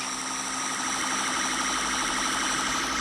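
A police siren wails steadily through a video game chase, loud and continuous with a faint engine hum beneath and no talk.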